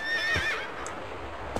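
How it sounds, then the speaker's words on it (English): A horse in Shadow of the Colossus lets out a clear, close whinny that falls in pitch, followed by a couple of soft hoof thuds against a quiet ambient background. "oh, that's the horse."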